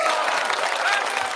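A studio audience claps together in a dense, steady burst of applause, loud and close throughout.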